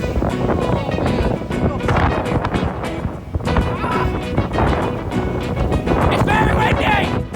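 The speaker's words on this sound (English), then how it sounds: "It's very windy! The gimbal can't even handle it!" Strong wind at a beach buffets the microphone in loud, continuous roaring gusts, with crashing surf and voices mixed underneath throughout.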